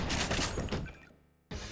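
Shotgun fire in Deus Ex (GMDX mod), a 12 gauge blasting at close range: a loud broadband burst with a decaying tail, then a sharp new blast right at the end.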